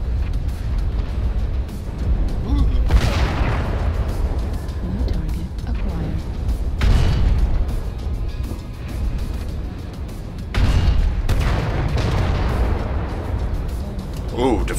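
Defense turret firing in the mech combat game MechWarrior Online: loud booming blasts and bursts roughly every few seconds over constant rumbling battle noise, with a voice talking throughout.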